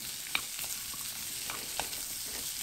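Minced garlic stir-fries in sesame oil with a bright, continuous sizzle, marked by a few light scrapes and taps of a spatula.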